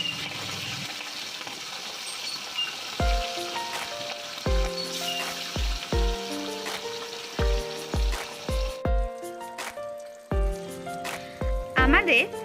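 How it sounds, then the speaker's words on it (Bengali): Hilsa fish pieces frying one after another in hot oil, a soft continuous sizzle under repeated sharp clinks and knocks of a utensil against the pan, with a brief louder spitting burst near the end. "এভাবেই সমস্ত মাছগুলো পরপর ভেজে নিচ্ছি।"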